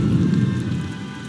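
Heavy rain pouring steadily in a storm scene of a story, a dense, even hiss of falling water with a low rumbling undertone, alone and close.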